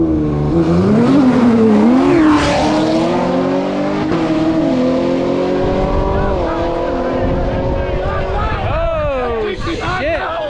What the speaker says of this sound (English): we got a ZL1 versus a GTR